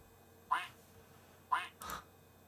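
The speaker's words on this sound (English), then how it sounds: "It quacks." Three short, nasal duck quacks sound from the small speaker of an original Bondi Blue iMac G3, two spaced apart and a third close behind, over a quiet background hum.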